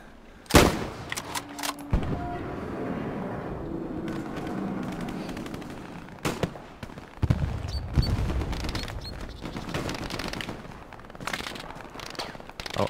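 Machine gun fire in the video game Hell Let Loose, loud bursts and rattling volleys mixed with distant gunshots and booms, continuing throughout a busy battlefield soundscape.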